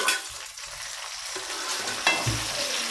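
Mashed tomatoes hit hot oil in a pan for a pomfret fish curry, giving a steady sizzle broken by a couple of sharp stirring clatters, with no talking.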